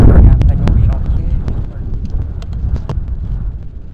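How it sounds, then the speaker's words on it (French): Wind gusting outdoors by a construction site with stairs near a château, a loud low rumble buffeting the microphone, easing slightly over time, with muffled voices in the background. "Il y a un petit vent quand même."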